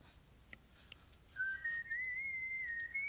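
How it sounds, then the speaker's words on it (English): Proto Man's whistle from the Mega Man video game plays as a single sustained melodic whistle, clear and steady for a couple of seconds after faint background noise. "the whistle is I don't know if you remember Mega Man, but that was Proto Man's whistle"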